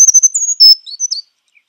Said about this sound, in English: they make a really high-pitched sort of sound